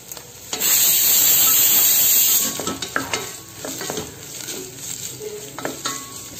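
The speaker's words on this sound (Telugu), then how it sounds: "ఇందులో కొన్ని క్యారెట్స్ అండ్ బీన్స్ వేస్తున్నాను" Carrots and beans hit a pan of ginger-garlic paste frying in oil, giving a loud burst of sizzle that settles into softer frying with repeated spoon scrapes and clinks.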